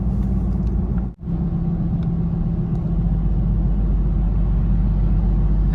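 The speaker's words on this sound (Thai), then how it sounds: "เนี่ยคันเร่งไม่ได้เหยียบ รถก็ไปปกตินะครับ" Ford Ranger T6 pickup cruising at steady speed on electronic throttle cruise control, heard from inside as a continuous low engine and road rumble with one brief dip early on.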